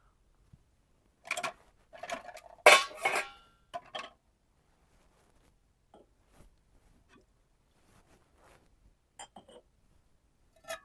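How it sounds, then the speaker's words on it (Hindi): Freshly washed dishes set onto a shelf in a village kitchen, giving a cluster of close, bright clinks and clatters over a few seconds, then sparse faint taps and knocks in near silence. "यहाँ पे ना धोए थे बर्तन, तो मैंने कहा इनको ना इस तरह करके शेल्फ में लगा देते हैं"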